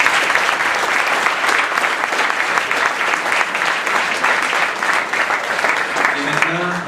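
A university lecture hall audience of sovereigntists gives loud, sustained applause, a thick roar of clapping that stays even for nearly seven seconds, with a voice briefly emerging near the end.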